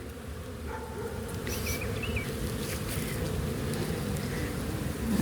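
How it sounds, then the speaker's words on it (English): Honey bees drone steadily at close range during a spring hive inspection in Kentucky, a dense continuous buzz from many bees with a few brief higher whines as individuals pass near, and no voices. "The drones are the really big bees"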